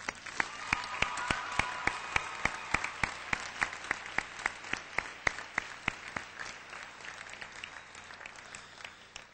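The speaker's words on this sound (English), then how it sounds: "I would greatly appreciate if we could give this stellar group of individuals one last round of applause" An audience applauds district board members with steady clapping, a few individual claps standing out sharply near the mic, continuing at an even level before tapering slightly, no speech over it.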